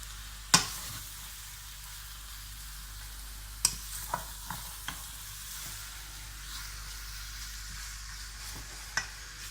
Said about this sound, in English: I just wanted to kind of toss it around with the vegetables first